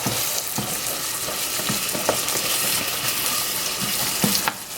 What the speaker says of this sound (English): I'm going to add the risotto and let it saute for a few minutes along with the vegetables